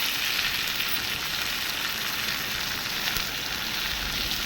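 Ingredients for a tomato chutney sauté in oil, making a dense, even, continuous sizzle that stays loud and close throughout with no pauses and no talking.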